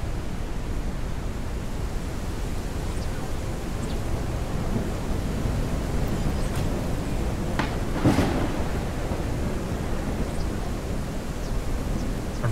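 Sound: thunderstorm in the video game Forever Skies

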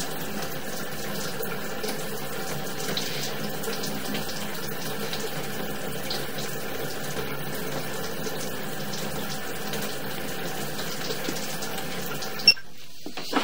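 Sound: tap water running into sewer pipe

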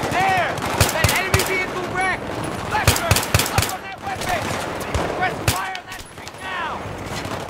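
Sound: mounted weapon firing in video game Battlefield 3

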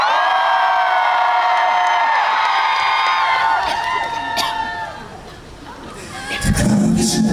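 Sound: concert crowd cheering and shouting

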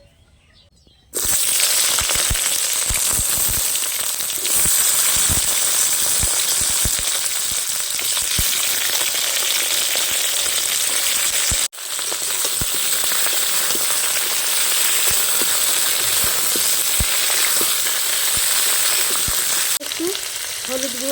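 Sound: frying potatoes and eggplant in tempered oil

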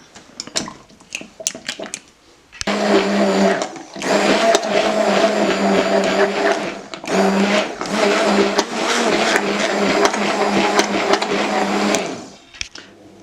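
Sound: blender mixing chocolate ganache

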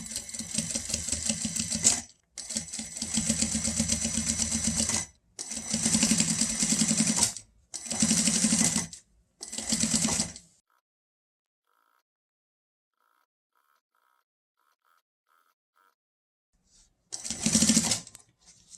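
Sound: sewing machine topstitching a sleep mask

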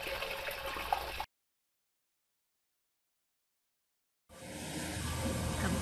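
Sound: water flowing through greenhouse pipe after sponge

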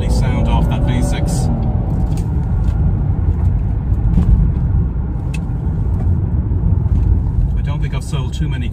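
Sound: Jaguar X-Type 3.0 V6 engine running

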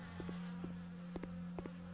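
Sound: buzzing bees or flies in video game The Fidelio Incident

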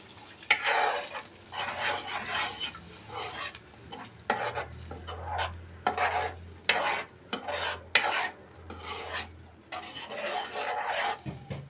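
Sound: milk poured into pan with masala, stirring

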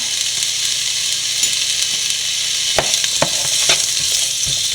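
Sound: duck roast masala sautéing and frying in a pan

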